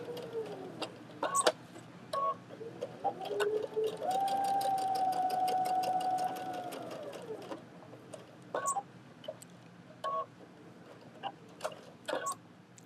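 A sewing machine stitches through a quilt, starting with short bursts of rapid needle clatter, then running in a sustained whirring stretch before slowing back into brief stitching bursts and ticks.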